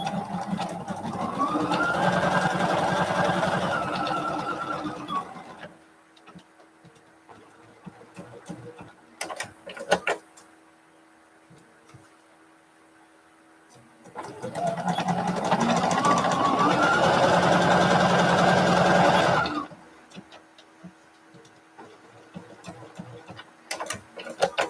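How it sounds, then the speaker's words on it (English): A sewing machine stitching strips for a jelly roll race quilt in Tula Pink fabric runs steadily at a slow pace in two long bursts of about five seconds each, separated by quiet handling noises. "This is kind of like slow sewing, which I like."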